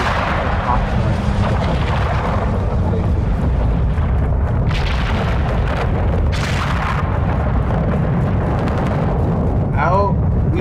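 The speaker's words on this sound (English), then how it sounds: "There's plenty of explosions by the area" Rumbling explosions and distant booms from Call of Duty DMZ gameplay roll on continuously under dense low battlefield noise, with a few sharper bursts standing out, loud throughout.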